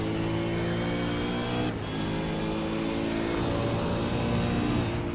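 A race car engine screams at high revs as it accelerates out of a corner during a six-hour endurance race, loud and close, with a brief gear-change dip before the pitch climbs again.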